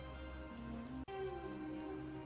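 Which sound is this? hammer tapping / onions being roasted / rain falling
rain falling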